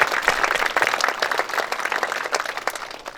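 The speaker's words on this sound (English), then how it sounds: "Let's give them a round of applause." An audience applauds at a school event honouring a team, many hands clapping in a dense, steady wash that stays loud throughout without any speech over it.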